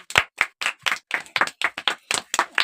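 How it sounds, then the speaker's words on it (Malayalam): About a dozen sharp hand claps in an even, fairly quick rhythm, close and clear with no talking, given to the winner of a guess-the-logo quiz round. "ഇവൻ ഓരോ ക്ലാപ്പ് കൊടുക്കാം."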